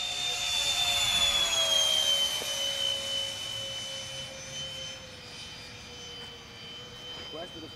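A model Habu jet turbine whines loudly as it passes, its high pitch sliding downward as it recedes, with faint voices nearby.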